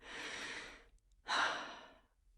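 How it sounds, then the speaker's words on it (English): A person takes a deep breath, a long, airy inhale followed by a brief pause and a stronger exhale, close and alone. "Okay, deep breath."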